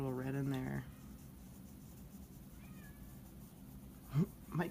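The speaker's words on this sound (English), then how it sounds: "My cat's trying to get in on the other side there." A pet cat meows from the other side of a closed door, heard as a few short, fairly faint cries after a voice, while quiet room noise carries on around them.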